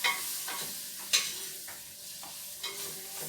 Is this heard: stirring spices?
yes